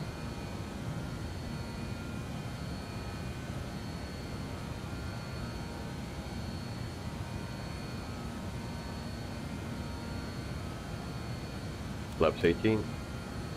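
An airliner in Microsoft Flight Simulator 2020 climbs after takeoff from Maribor toward Riga, a steady low engine drone and cabin hum holding throughout, with a brief spoken callout near the end.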